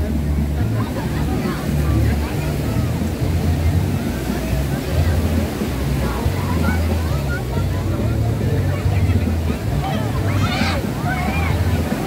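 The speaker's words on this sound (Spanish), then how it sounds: "Mira las olas del mar." Sea waves break on a crowded beach on a hot day, a continuous loud wash of surf with wind buffeting the microphone and voices mixed in.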